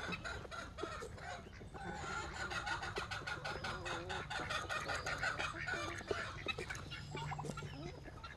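Several chickens cluck steadily and fairly quietly throughout, with scattered bird calls in a farmyard setting.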